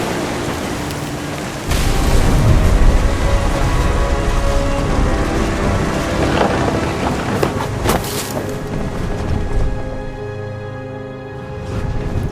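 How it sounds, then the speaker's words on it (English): Stormy weather in the video game What Remains of Edith Finch, a loud roaring wash of wind and rain with a deep rumbling thunder swell that fades toward the end, no voices. "The thunder sounded much too close and full of angry power"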